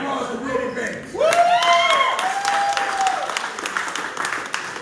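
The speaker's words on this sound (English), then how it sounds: "Round of applause to Wilbur Banks." An audience at a June 8, 2021 gathering breaks into applause, clapping under a rising, cheering voice, then continuing steadily at moderate loudness.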